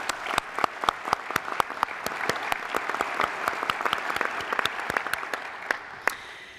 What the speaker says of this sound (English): let's take a moment to give a round of applause to the theater staff